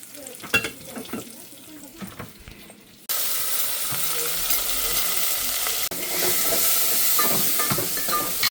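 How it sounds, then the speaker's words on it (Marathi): Oil for the dal tempering crackles quietly, then jumps to a loud, sudden hiss and sizzle as it hits the cooked dal. The spitting continues close by with a brief break and some stirring. "डाळीची फोडणी टाकते."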